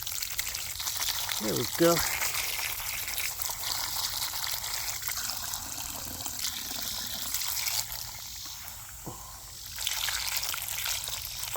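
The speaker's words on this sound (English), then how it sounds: "Get my hands washed off." Tap water runs steadily while someone rinses their hands after handling tomatoes. The close, continuous splashing trickle lasts the whole time, with a brief spoken remark and a few small clicks over it.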